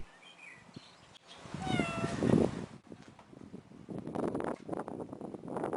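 A cat meows several times in a rising, drawn-out cry, fairly close, over light outdoor wind and rustling, with no speech.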